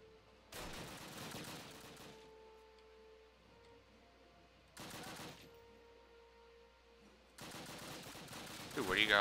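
Call of Duty gunfire comes in three short, loud bursts of automatic shots spaced a few seconds apart, with quieter in-game ambience and faint tones between them.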